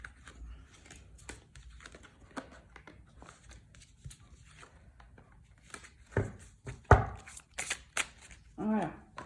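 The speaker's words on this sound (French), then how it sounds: "Alors, je vais les remélanger" Oracle cards being shuffled by hand make quick papery riffles and taps, with someone speaking French quietly over them.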